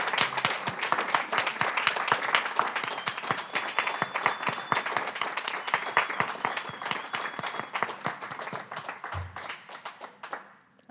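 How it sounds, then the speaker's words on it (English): An audience applauds at a poetry recitation state finals event, steady dense clapping from a sizable crowd that continues for about ten seconds before thinning out and fading near the end. "Let's give them another round of applause while we're taking pictures"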